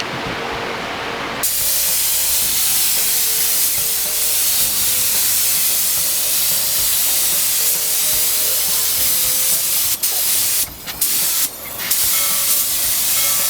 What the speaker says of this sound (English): is now spraying the 1960 fire engine pedal car